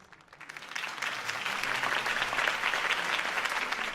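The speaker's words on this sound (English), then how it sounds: "could have heard that applause" Applause in Batman: A Telltale Game Series swells from a few claps into steady crowd clapping that holds strong to the end.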